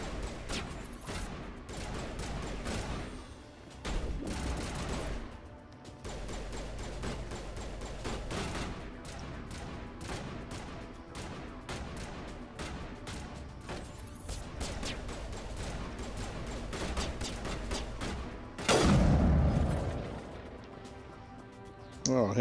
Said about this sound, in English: What are y'all firing at?